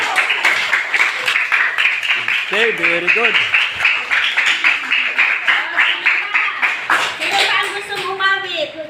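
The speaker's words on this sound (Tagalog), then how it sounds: "palakpak." Children at a Sunday church session clap hands in a loud, steady rhythmic beat lasting several seconds, while an adult speaks over them and voices rise and fall.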